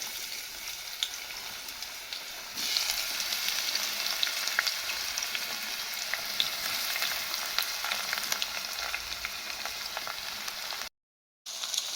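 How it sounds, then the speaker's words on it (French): Chopped onion, bell pepper and chili sautéing in hot oil, a continuous bright sizzle that jumps louder a few seconds in and holds steady, close up with no voices, cut by a brief dropout near the end. "Après avoir découpé l'oignon, le poivron, le piment, je vais maintenant les faire sauter dans de l'huile."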